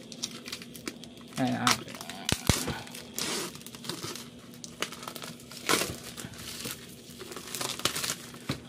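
Cardboard and plastic packaging of an Iron Man Mark 1 action figure crinkles and rustles in handling, with scattered tearing and crumpling bursts close by, while a person talks briefly.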